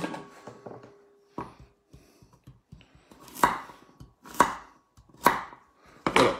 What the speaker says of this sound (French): les carottes, on ne va pas les couper en petites rondelles, on va les couper vraiment en gros morceaux